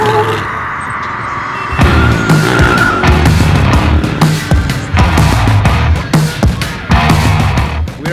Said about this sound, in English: we're gonna burn some tires together